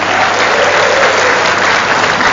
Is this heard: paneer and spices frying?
no